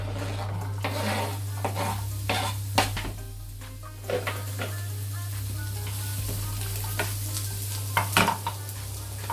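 Cut onion halves go into a pan that is still heating up, giving a light sizzle with frequent stirring scrapes and utensil clinks over a steady low hum.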